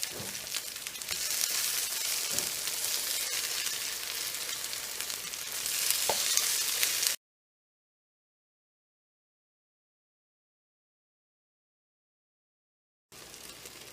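Zucchini fritters pan frying in oil, giving a steady close sizzle that swells slightly before cutting out to silence, then returning briefly near the end.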